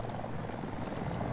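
A Hind attack helicopter in the Battlefield 2042 video game, its rotor making a continuous loud, low thumping drone close by, with no talk over it.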